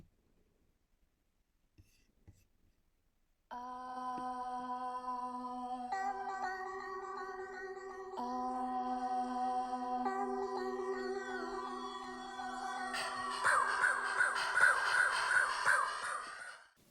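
Self-made sampler sounds with an ambient bass effect: a sustained layered tone enters after a few seconds of near silence, shifting through several chord changes before swelling into a denser, brighter wash near the end.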